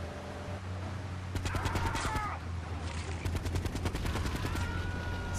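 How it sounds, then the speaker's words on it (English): Rapid bursts of Uzi fire in the Grand Theft Auto III video game, two rattling strings of shots over a low engine-like hum, fairly loud and close, with no talking. "I'm just going to Uzi him."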